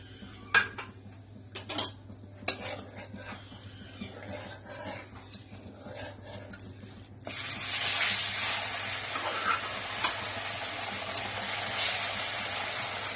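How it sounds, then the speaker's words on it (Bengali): Tilapia fish dusted with flour fries in hot oil in a pan. A few clinks of a utensil come first, then a loud, sudden, continuous frying hiss and crackle sets in and holds steady. "এবার আমি ঢালবো তেল তেলটা গরম হয়ে গেছে"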